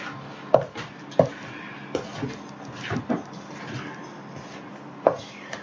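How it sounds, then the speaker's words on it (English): Oatmeal raisin cookie dough being mixed and scraped in a bowl, with a few sharp knocks of the utensil against the bowl amid soft, uneven scraping and stirring, close and moderately loud. "make sure you scrape clear down to the bottom so you know your ingredients is all mixed in together"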